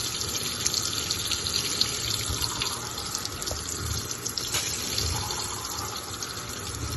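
Persil laundry detergent poured into the center of a washing machine drum, a steady close liquid stream with faint splashing, running continuously for several seconds with no talking.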